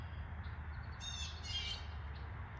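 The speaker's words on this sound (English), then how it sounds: "Fucking birds." Outdoor birds give a few faint, high chirps and short squawky calls partway through, fairly distant over a low background rumble, with no one talking.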